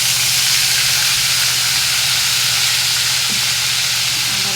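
Ginger paste frying in a pan over low gas for a vegetarian pointed gourd dish, giving a loud, steady, close sizzle with constant hiss and no pauses.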